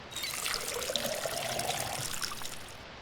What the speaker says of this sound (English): Let's fill our watering can up.